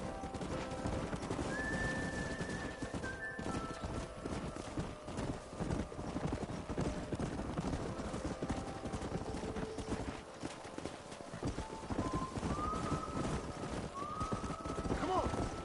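Horse hooves clip-clop in a steady gallop rhythm in the video game Red Dead Redemption, with occasional whinnies rising above the hoofbeats and a faint voice talking underneath.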